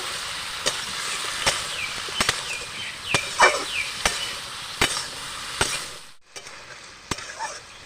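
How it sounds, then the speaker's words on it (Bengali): Jackfruit curry with green chili paste frying in a pan as a spatula stirs it, with a steady sizzle under repeated scraping strokes at a regular pace. The sound is close, with no talk. "ভালো করে কষায় নেবো বাটা মশলাটা দিয়ে"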